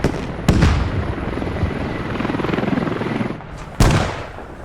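In the video game Squad, a helicopter's rotor chop and engine drone run steadily, loud and close, broken by two sharp explosive bangs, the second coming as the rotor noise drops away.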